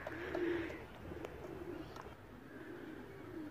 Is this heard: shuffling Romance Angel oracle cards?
no